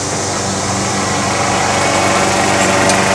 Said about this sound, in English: Even I have a white dude mowing my grass.